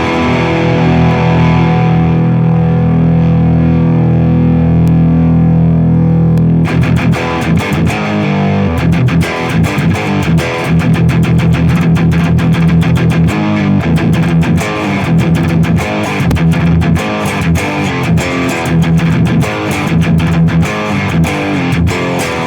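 Electric guitar through a Mercuriall Spark Marshall amp simulator, loud and distorted, a sustained chord ringing before dense, rhythmic high-gain strumming takes over and continues without talk.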